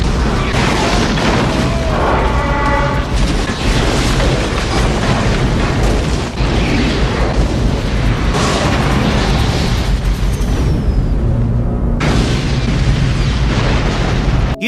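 Loud booms and blasts repeat over a thick, roaring backdrop, with one abrupt drop and a renewed burst near the end.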